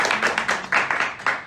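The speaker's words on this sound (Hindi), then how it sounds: "एक बार तालियां तो बजा दो यार।" Handful of people clapping at a weekly meeting, sparse uneven claps close by, each sharp and separate, over a little more than a second with no talk.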